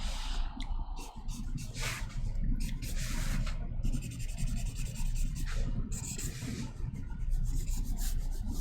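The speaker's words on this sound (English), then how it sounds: "Just sketching through with the marker." Marker sketching and rubbing across paper while shading a sci-fi dropship concept drawing, a close, steady scratchy rubbing with brief pauses between strokes, no talking.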